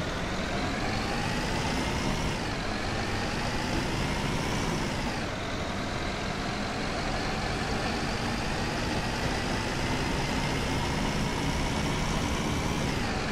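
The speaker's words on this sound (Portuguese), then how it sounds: "Deixa só o barulho do motor." Bus engine of a 2014 New Torino in the OMSI 2 simulator, a loud continuous drone whose pitch steps up and shifts through gear changes, heard alone without talk.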